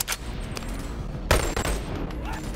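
A gunshot fired in a video game, heard as a single sharp loud crack over a steady background of game sound and faint rumble, with no voices.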